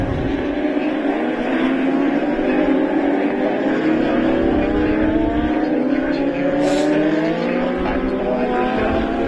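US Legend race cars roar around Stafford Motor Speedway as a pack of several engines drones loudly and continuously, with rising and falling pitches as they pass and no voices.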